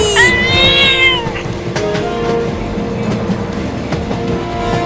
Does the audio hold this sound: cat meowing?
yes